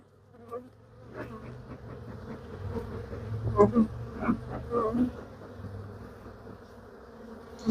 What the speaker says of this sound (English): These bees are so angry.